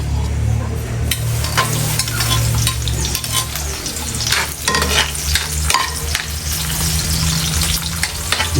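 Onion and garlic sautéing in a hot pan for adobo, a loud, dense sizzle close by with repeated scraping and clattering stirs throughout.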